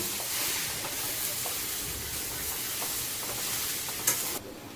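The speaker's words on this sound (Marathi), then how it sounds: "आपण पूर्ण असे काढून घेऊ आणि चांगले परतून घेऊया" Potatoes for a Marathi-style potato chutney being stirred and fried in a pan, a steady sizzling hiss with scraping stir strokes throughout, close and continuous with no talk.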